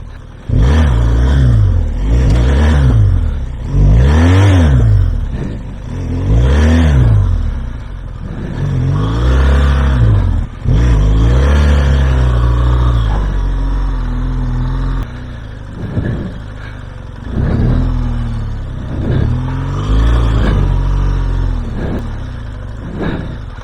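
A vehicle engine revs hard and repeatedly while the vehicle is stuck, its front wheel locking up with the tyre jammed against the mudguard. Loud rhythmic revving surges dominate, with rough labouring tones and no talk.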